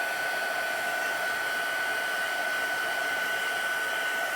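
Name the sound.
heat embossing gun blowing hot air on powder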